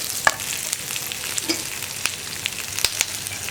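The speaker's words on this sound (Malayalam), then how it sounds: "ഞാനിപ്പോൾ തുറന്ന് വെച്ചിട്ട് തന്നെ ഇളക്കി കൊടുക്കാൻ പോവുകയാണ്." Okra, potato and onion stir-fry sizzles in an open pan over a low flame while a spatula stirs it, with steady frying hiss and a few sharp scraping clicks, close and alone.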